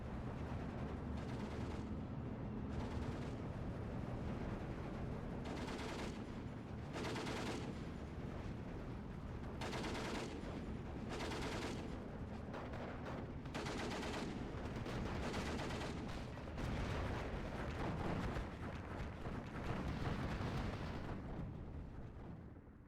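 A 50mm gun fires repeatedly at a target in the wartime strategy game Steel Division II, heavy booming shots spaced irregularly over a constant battlefield rumble, with other gunfire mixed in.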